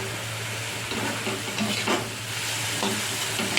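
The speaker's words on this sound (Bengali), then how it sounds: "পেঁয়াজটা দিয়ে অল্প একটুখানি পরিমাণ তেল দিয়ে ভালো করে নেড়ে চেড়ে নেবে" Onions stir-frying in a little oil give a steady close sizzle with a few scraping stirs over it, no voices.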